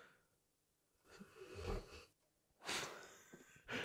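A dog snores close by, each slow breath drawn in with a wheezy, snorting rasp, two long rumbling inhalations separated by a quiet pause with a third starting at the end.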